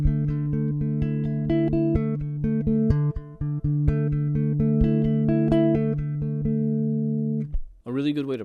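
Bass guitar played with rapid tremolo plucking, notes shifting across the strings in a steady repeated pattern, close and clear, ending in a brief breath or noise burst.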